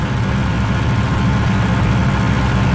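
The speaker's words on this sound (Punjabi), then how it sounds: "ਦੇਖ ਸਕਦੇ ਕਿੰਨੇ ਆਰਾਮ ਨਾਲ ਚੱਲਦਾ ਪਿਆ ਟਰੈਕਟਰ" A tractor engine in Farming Simulator 20, an Indian tractor model 855, runs steadily at a low, even idle, a loud continuous rumble with no pauses or talk.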